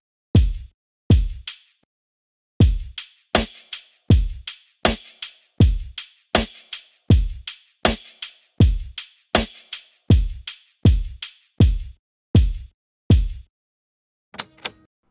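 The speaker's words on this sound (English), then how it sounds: "I chopped up the drum loop, and then I sequenced my own drum pattern in a MIDI clip that sounds like this." Drum pattern sequenced in a MIDI clip from chops of a sampled drum loop: a steady, punchy beat of distinct kick and snare hits in a repeating groove, close and clear, stopping briefly near the end before a final short burst.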